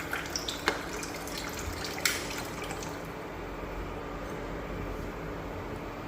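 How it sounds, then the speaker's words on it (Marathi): Water poured into a cooking pan of ridge gourd curry with black masala gives a steady, fairly quiet watery rush with a couple of small splashy drips near the start. No one talks. "आणखीन थोडंसं पाणी घालूया म्हणजे दोडकं शिजण्यासाठी"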